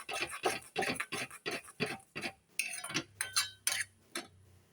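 A spoon stirs and scrapes through a mango mixture in a kadai, making a steady run of close, crisp clinks and scrapes with no talking.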